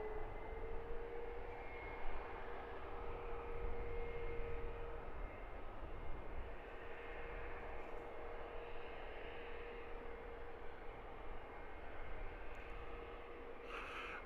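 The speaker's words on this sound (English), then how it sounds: "This is EasyJet flight 2385 off to Zakynthos." An EasyJet airliner departs Luton Airport bound for Zakynthos, its engines a steady, moderately distant broadband roar that holds evenly throughout with a faint high whine running through it.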